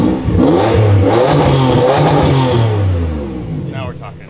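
A Toyota Century V12 fitted with a new X-pipe exhaust revs up loudly and holds a deep rising roar before easing off, with people talking over the engine.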